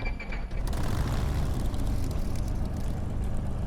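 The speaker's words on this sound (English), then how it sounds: "That beautiful sound of that Merlin engine coming to life is just amazing." A Supermarine Spitfire LF Mk IXc's Rolls-Royce Merlin engine catches and roars to life in a flight simulator, a brief cough giving way to a loud, steady, rumbling drone that holds throughout.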